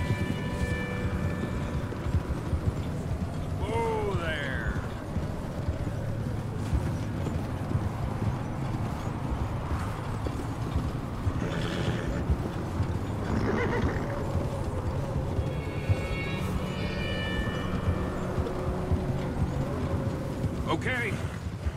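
Horses gallop with steady clip-clop hoofbeats and occasional neighs and whinnies in the Western video game Red Dead Redemption 2, with voices talking over the riding throughout.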